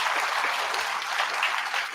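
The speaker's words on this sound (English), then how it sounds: "Big round of applause for your management." Audience applause for the management at a one-year induction program session, a steady dense wash of clapping from a large crowd, even and sustained throughout with no talk over it.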